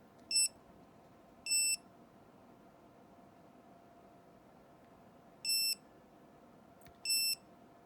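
A Multicomp Pro MP780053 non-contact voltage detector gives four short, high electronic beeps in two pairs, spaced apart over a faint steady hum, with no voices.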